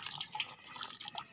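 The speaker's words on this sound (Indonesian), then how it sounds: "kita gunakan gayung untuk mengambil air nutrisi tadi, kita untuk siram tanaman yang ada di polybag." A dipper scooping hydroponic nutrient water from a holding tub to water plants in polybags gives faint, brief splashes and drips close by.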